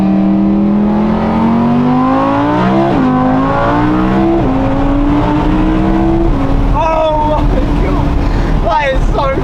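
Audi R8 V10 Plus engine accelerating hard on a motorway, its rising wail climbing through several gear changes, loud and steady inside the cabin, while people exclaim over it.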